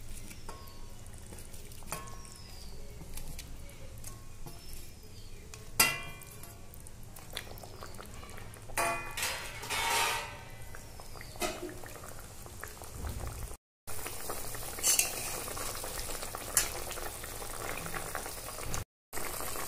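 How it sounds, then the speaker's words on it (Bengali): Bata fish simmers in a mustard and poppy seed gravy, a low steady bubbling with occasional clinks and brief bursts of louder sizzle, close by with no talk. "এবার আমি মাছগুলো ঝোলে দিয়ে দিচ্ছি।"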